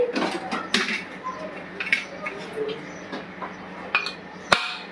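A metal pot of mutton set onto a pressure cooker base in a home kitchen, giving a series of scattered clinks and metallic knocks, with one sharp clank near the end.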